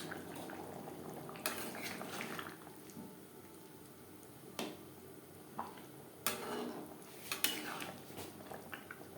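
Fried pangas fish is mixed into gravy in a pan, with faint, sparse scrapes and clinks of a utensil against the pan over a low, quiet simmer.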